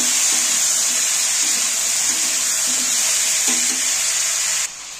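Vegetables fry with salt and turmeric for a katla fish curry, giving a steady close hiss with a few faint scraping stirs, before the sizzle drops away abruptly near the end.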